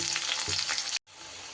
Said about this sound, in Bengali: আলুটা কিন্তু বেশ সুন্দর করে আমার ভাজা হয়ে গেছে।